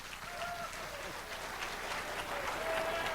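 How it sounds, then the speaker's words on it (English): An audience at a conspiracy-themed talk by a researcher applauds steadily with a dense, sustained patter of clapping and a faint hint of voices, moderately distant and fairly quiet. "Would you all please stand with me right now and cheer the greatest living researcher in America, Eustace Mullins."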